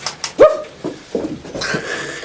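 A small dog whimpers and yelps in a few short, high-pitched bursts, close by, with faint rustling in between.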